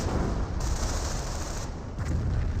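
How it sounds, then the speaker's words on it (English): Multiple anti-tank guns firing in a Company of Heroes battle, a dense continuous barrage of loud gunfire and booms with no pauses. "Got multiple AT guns firing away"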